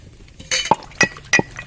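Fried spices are pounded with a mortar and pestle, giving three or four sharp, hard knocks spaced roughly a third of a second apart, close and distinct against near silence.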